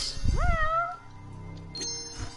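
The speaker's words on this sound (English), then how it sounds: "I hear a cat." A cat gives a single clear rising meow, fairly close, followed by quieter background sounds and faint tinkling.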